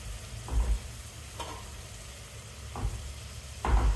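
Yogurt with mint and coriander frying in a pan, a soft low sizzle under occasional stirring scrapes and clanks, fairly quiet and close.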